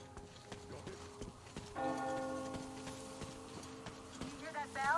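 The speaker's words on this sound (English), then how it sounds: "You hear that bell?" Metro Exodus video game bell ringing, one sustained tolling strike that swells in and rings on over low ambience with a faint clopping rhythm underneath.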